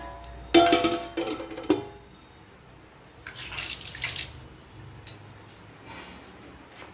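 Freshly cut potatoes for a fish curry are rinsed under a running kitchen tap, with splashing bursts of water and squishy handling rising and falling in a few separate spells, close and fairly loud, no talking.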